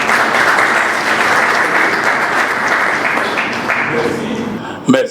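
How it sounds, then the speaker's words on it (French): Audience at a formal assembly applauding a speaker, a thick, steady roar of clapping holding at full strength for several seconds before ending abruptly with a brief knock. "sous vos applaudissements"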